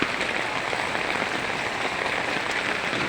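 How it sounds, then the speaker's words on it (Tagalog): Steady, dense rain pours down outdoors onto a flooded street with blocked drainage, a close, continuous hiss with no pauses. "Ayan, dito maulan."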